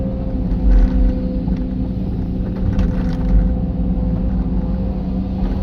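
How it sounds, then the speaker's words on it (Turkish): A 2020 Hidromek 230 excavator with 6000 hours on it, loading a truck, with a continuous loud diesel engine rumble close by and a few faint mechanical clanks over the steady drone. "Makine 230 hidromek 2020 model 6000 saat."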